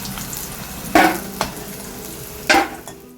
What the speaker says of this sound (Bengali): তো মাছটা কিন্তু ভাজা হয়ে গেছে, এবার নামিয়ে নেব।